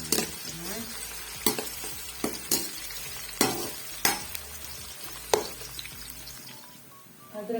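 Chopped onion sizzles steadily in hot oil in a kadai while a spoon stirs it, knocking sharply against the pan several times as a fish curry is cooked.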